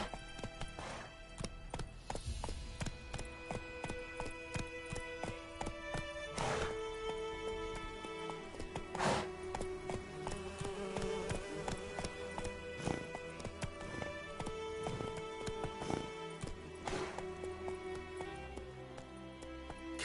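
Roach the horse gallops in The Witcher 3 in a steady, continuous clip-clop rhythm of hooves, loud and close, over game music with occasional sharp accents.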